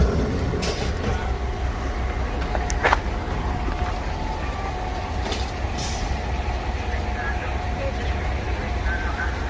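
An old-fashioned train rolls through the Hungarian countryside with a continuous low rumble and rattle of the carriage, broken by a few short clanks and hisses.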